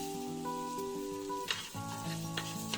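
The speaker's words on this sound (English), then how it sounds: "And saute it for some minutes." Rice sautéing in a hot pan, a quiet continuous sizzle with a couple of brief scraping stirs, heard under steady background music.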